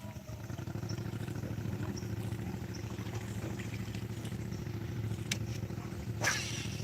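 A vehicle running with a Marshmallow brand exhaust, giving a steady low, fairly mild idling rumble that holds level throughout, with a few faint clicks and a brief clatter near the end.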